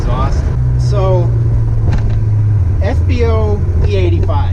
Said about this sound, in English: I'm trying to let you guys hear the car, the exhaust.